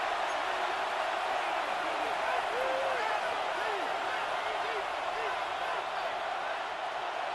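Stadium crowd noise in an EA Sports football video game: a dense, steady roar of many voices during a third-down play, broad and continuous with faint voices audible within the din.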